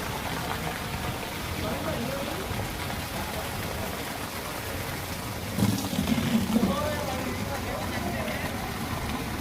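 Heavy rain falling on surfaces in Rurka Kalan, Punjab, a constant wash of patter throughout with a brief low rumble partway through.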